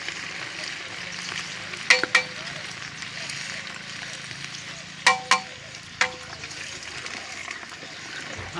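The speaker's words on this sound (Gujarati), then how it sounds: "દેખતા રહેજો કેવી રીતનો વઘાર ચાલે છે" A cook's tempering of tomatoes and chillies frying in a pot, a steady loud sizzle throughout with a few sharp metallic clinks of a ladle against the vessel, and faint voices in the background.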